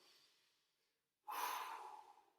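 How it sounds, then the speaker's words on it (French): A person exercising pushes out one strong, breathy exhale that lasts about a second after a faint quieter breath, close and alone. "Forcez l'expiration pour ça."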